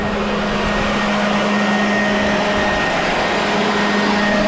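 An improvised air blower contraption pushing air through a 1999 Harley-Davidson Fat Boy gas tank to dry it, a loud, steady whooshing drone with a constant motor hum, unbroken and close.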